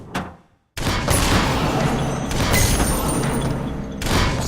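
Dense, loud rapid shooting effects from the Luxor 4 puzzle game, a continuous clattering barrage with thumps and booms after a brief quiet gap at the start.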